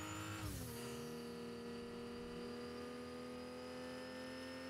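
A car in the Fortnite video game drives along with a steady engine drone and a brief swoop of tire or engine pitch near the start, loud and continuous throughout with no talk.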